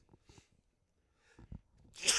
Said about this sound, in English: hold up, I'm about to sneeze.